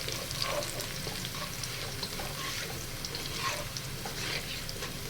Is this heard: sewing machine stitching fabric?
no